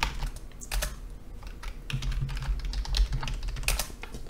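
Rapid clicking keystrokes on a computer keyboard as a terminal command is typed on Ubuntu, irregular taps close by and fairly quiet, with no talking.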